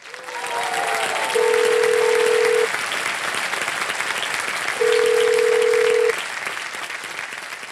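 Two long, steady electronic telephone dialing tones sound a few seconds apart over a noisy crowd background on a game-show set.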